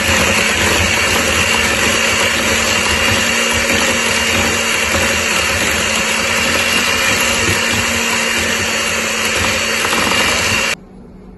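Electric mixer beating butter, sugar and an egg on low for chocolate cake batter, a loud steady whirring hum held for about ten seconds before cutting off abruptly, with no voices.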